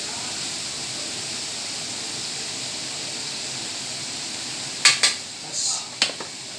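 Chicken skin chicharon frying in oil, a steady close hiss and sizzle throughout, with a few sharp metallic clinks of a utensil near the end as pieces are turned.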